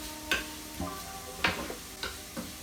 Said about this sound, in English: The garlic burns quicker than onion does, so you want to try not to put it in too early. But just again, still sweating off the onions.